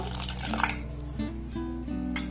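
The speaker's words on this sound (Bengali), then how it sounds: "মিক্সির জারটা ধুয়ে এখানে আমি সামান্য পরিমাণে জল অ্যাড করব" Water pours into a rinsed mixer jar, a close, steady trickle whose tone climbs in pitch as the jar fills.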